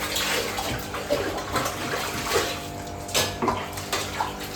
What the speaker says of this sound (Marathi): पहिला भांडी घासते